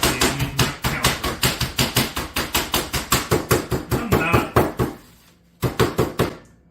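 Rapid, rhythmic pounding on a thick cutting board, roughly a quarter inch thick, set on a kitchen counter; about twenty close, sharp thuds, a brief pause, then a few more blows.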